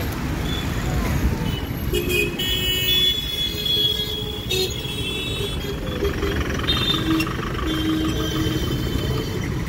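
Street traffic rumbles close by as a vehicle passes, with a horn tooting a few times and voices talking over the noise.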